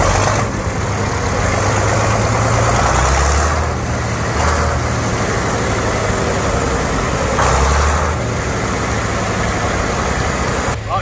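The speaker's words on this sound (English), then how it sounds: "No silencer, we're going to get the sound of it revved up." A loud engine running without a silencer at a vintage vehicle show in Scotland rumbles steadily up close, swelling in a few brief rises in revs around the fourth and eighth seconds before settling back.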